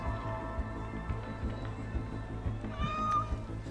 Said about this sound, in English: Look at that cat.